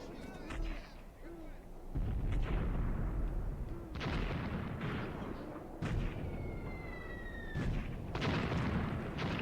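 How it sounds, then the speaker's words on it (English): A mortar battery fires during a night raid in the tactical war game Graviteam Tactics. Heavy booms land every couple of seconds, some close and some farther off, under a voice talking. "Okay, our artillery battery, that's the mortar battery"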